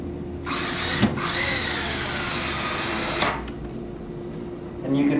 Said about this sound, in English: so that the screw head will countersink itself into the frame